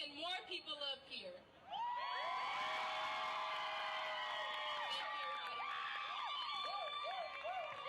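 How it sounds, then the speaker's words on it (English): Young people at an outdoor anti-gang-injunction rally scream and cheer. A few brief voices come first, then a loud, sustained wall of shrill screams and whoops that holds steady to the end. "I want all the youth that's up here to scream and make noise"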